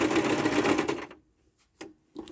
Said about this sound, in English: And we're going to sew.